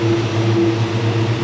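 A steady, low V8 engine idle at about 880 RPM in a Chevelle hums with a deep, even throb, holding a constant pitch close to the microphone.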